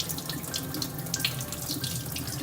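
Water poured steadily over a wooden cutting board to wet a transferred image, a continuous soft splashing and trickling close by with no talk.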